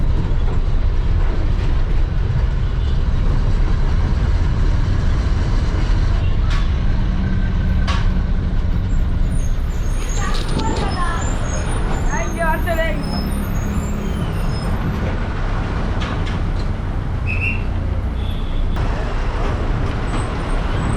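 A Chennai city bus on route 6 from Tambaram to Poonamallee rumbles steadily through traffic, its engine drone and road noise loud and unbroken, with occasional horns and someone speaking over it.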